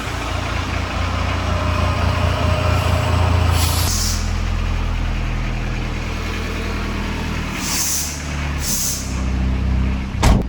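A seven-turbo truck engine idles cold with a steady low rumble and turbo whine, broken by sharp hissing bursts of air brakes.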